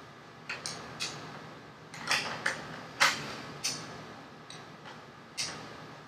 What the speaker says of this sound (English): You feed the cartridge through from that side. Thread it in.